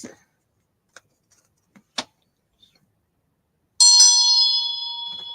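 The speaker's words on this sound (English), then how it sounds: "Move the bell." A small bell is moved: a few faint clicks and taps, then one bright ring that sounds out clearly and fades slowly over its last second and a half, with no other sound around it.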